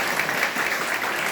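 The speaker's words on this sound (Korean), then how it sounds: "우리 격려의 박수 부탁드립니다." Brief applause from a church congregation, a soft, even patter of many hands clapping together, moderately distant and continuous.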